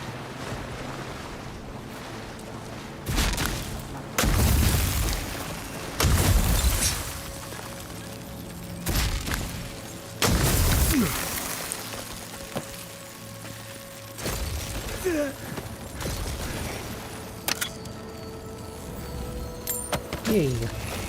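Grenades blowing up after being shot in the video game Avowed, several separate loud bursts spread out over ambient sound, with a person talking between them.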